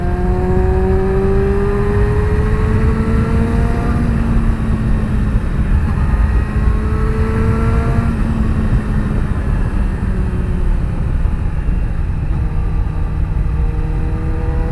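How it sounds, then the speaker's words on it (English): A 2017 Yamaha R6 sport motorcycle with a smooth four-cylinder engine revs loudly and close, its pitch climbing and dropping repeatedly as it pulls through the gears, with no talking. "This buttery smooth 4-cylinder engine, love it."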